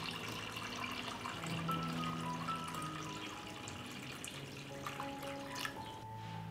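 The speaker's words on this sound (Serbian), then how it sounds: "Sipam vodu u šerpu do visine poklopca." Water runs steadily into a cooking pot lined with a cloth and packed with glass jars, a continuous splashing pour that fills the space without pause.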